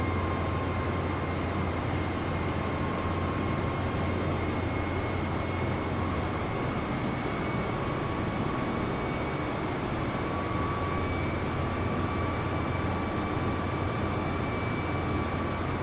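A steady, loud Airbus airliner cabin drone on approach in Microsoft Flight Simulator, with a constant low engine rumble and faint high whine held unchanged throughout, no voices.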